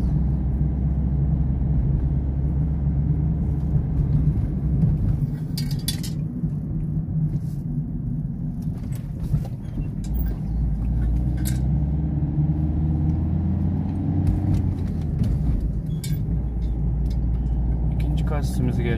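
A car rolls over speed bumps on a driving test route in Afyonkarahisar, with a steady low engine and road rumble, a few brief thumps and rattles as the wheels cross, and a person talking throughout.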